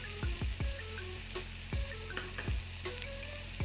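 Prawn potli stirred in hot oil over high heat: a constant close sizzle broken by repeated scraping and clinking strokes of a utensil against the pan, with no voices.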